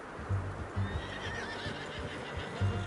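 A horse in Red Dead Redemption 2 whinnies among low snorts and hoof clip-clops, close by and moderately loud over a steady outdoor ambience.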